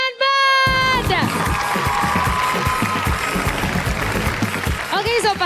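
Loud, sustained applause and cheering from a large television singing-competition studio audience, with whoops rising over the clapping and a musical tone at the start and end.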